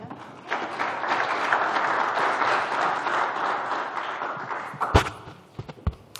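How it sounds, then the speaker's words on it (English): Audience applause for a speaker named Anna at a talk on user-owned AI foundation models, a steady dense clapping that swells and holds for about five seconds, then breaks into a few scattered louder claps and thumps as it dies away. "please give a big round of applause for Anna"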